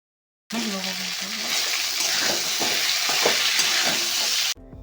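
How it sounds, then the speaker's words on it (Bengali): Fried vegetables and spice paste being stir-fried in a wok for Bengali shukto, a steady broadband sizzle with repeated scraping stirs, close and fairly loud; a low hum runs briefly at the start. "দিয়ে মশলাটার সঙ্গে সবজিগুলোকে ভালো করে কষে নিতে হবে।"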